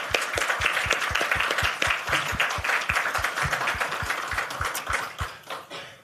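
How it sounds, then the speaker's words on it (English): Audience applause for a panel at the close of a launch event and panel discussion: sustained clapping from a crowd in a room, with some low-pitched claps standing out, fading out after about six seconds. "Can we give a big round of applause to our panel"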